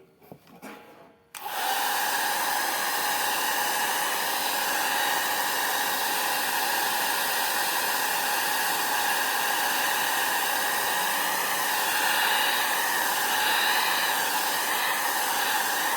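A hair dryer blows over a watercolor landscape painting, switching on after a brief pause and then roaring steadily and loudly at close range for the rest of the clip.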